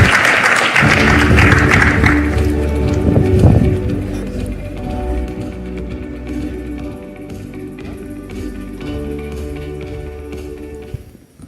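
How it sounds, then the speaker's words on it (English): An audience at a live business conversation event applauds in a loud burst lasting about two seconds, which then fades into a sustained tonal background. "Warm round of applause, please."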